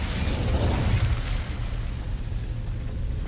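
Incendio fire spell cast in Hogwarts Legacy: a loud whooshing burst of flame that erupts at once and rolls on as a dense, rumbling roar, heard alone without voices.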